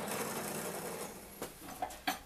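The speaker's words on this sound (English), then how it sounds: "I tilted the drill press table to 10 degrees." A drill press, its table tilted to 10 degrees, bores dowel holes in the wooden feet of a graphics tablet stand, making a steady mechanical whir followed by a few sharp clicks and knocks as the bit cuts.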